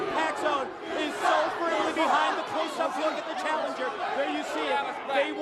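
Capacity standing-room-only wrestling crowd in an arena, loud continuous chanting and shouting from many voices with a rhythmic, surging character throughout.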